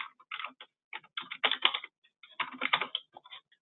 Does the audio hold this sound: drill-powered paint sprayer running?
no